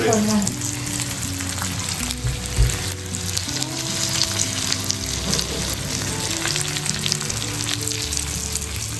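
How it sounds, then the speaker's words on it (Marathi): Stuffed whole pomfret fish fries steadily in hot oil on a medium gas flame, a dense continuous sizzle with crackling pops running close and alone throughout, no voices. "तेल तापलेलं आहे आणि बघताय सगळ्यात पहिला पापलेट घातलाय"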